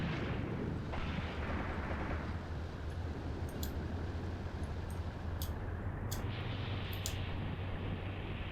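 Gunfire aimed at enemy infantry in the Graviteam Tactics war game: several sharp, distant shots at uneven intervals, ringing out over a steady low battlefield rumble.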